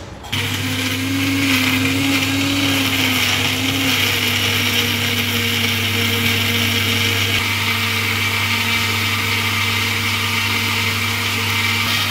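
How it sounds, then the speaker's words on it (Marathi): An electric mixer grinder runs continuously at high speed, loud and steady, churning a mixture with ice added to keep the jar from heating, with no talking over the whirring motor. "तर आता हे मिश्रण आपण आता मिक्सरला लावून घेणार आहोत."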